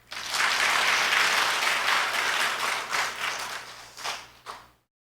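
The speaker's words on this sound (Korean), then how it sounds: "일단 박수 한번 쳐주세요." Sustained applause from a church congregation during a Sunday teachers' dedication worship service: dense, steady clapping that swells and then thins into a few scattered claps before stopping abruptly.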